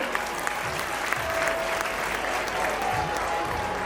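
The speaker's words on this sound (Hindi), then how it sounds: "इसी सुंदर संदेश के साथ हमारे सभी कलाकारों के लिए एक बार जोरदार तालियां।" Loud, dense audience applause for performers at a school annual function, a continuous roar of many hands clapping that holds steady throughout.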